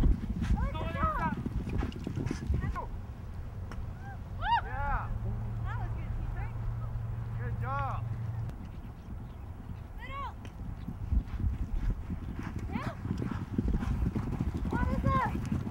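Polo horses at a North Shore polo club on Hawaii clip-clop steadily, hooves thudding in a continuous rhythm under people talking, with occasional high calls rising over the outdoor bustle.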